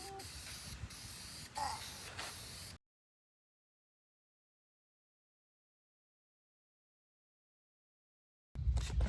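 A steady hissing spray from a spray paint can runs for a few seconds, then stops abruptly into silence before another burst of noise starts at the end.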